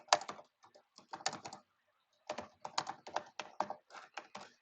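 Keys clatter on a computer keyboard while code comments are typed, in quick close bursts of clicks separated by a pause of about a second.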